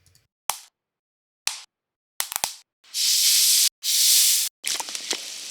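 Sampled pops and water textures from a hyper-real sound pack play one after another: sharp isolated plops and clicks, then two long, loud sprays of hissing water, and finally a bubbly, spattering stretch. There is no talking.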